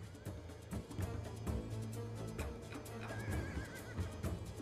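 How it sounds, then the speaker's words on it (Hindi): A horse neighs and whinnies loudly in repeated bursts, with clip-clop hoofbeats and rustling movement underneath, fairly close in a dramatic outdoor scene. "घोड़ा यहीं कहीं है।"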